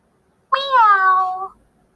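A single clear, close meow from a cat, rising then drawn out and falling away, lasting about a second with no other sounds around it.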